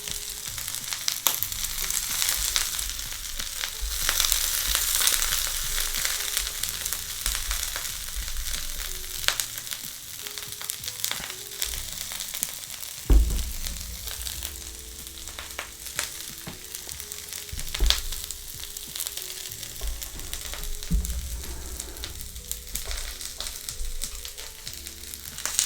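Beef for stroganoff sizzles in a frying pan, a loud continuous hiss and crackle that runs throughout, broken by occasional scrapes and knocks of stirring.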